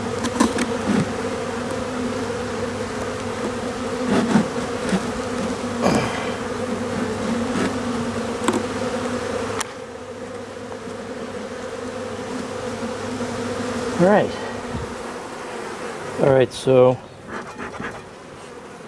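Honey bees buzz steadily around an open hive during a spring inspection, a dense close drone with individual bees passing near, while a person speaks briefly and frames are handled.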